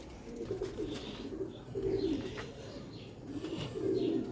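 Pigeons coo softly in repeated low rolling phrases at feeding time, several birds close by with faint chirps and light rustling between calls.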